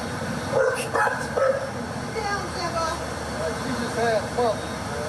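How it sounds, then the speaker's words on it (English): Several short dog barks and yips from a dog inside a van during a police traffic stop, slightly muffled by the enclosed space, mixed with people talking and background rumble. "Sounds like we got a dog in the car, which could complicate things."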